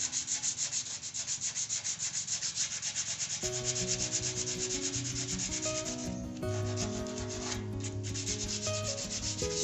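Sandpaper is rubbed by hand across a metal fence being prepped for paint, making rhythmic, close scraping strokes. Music comes in partway through and plays over the continuing sanding.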